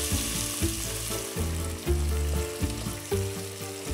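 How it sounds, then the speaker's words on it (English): Chopped onion frying in olive oil with cumin, a steady, close sizzle with soft stirring scrapes and irregular low knocks throughout, no voices. "to the olive oil, I'm going to add a chopped onion."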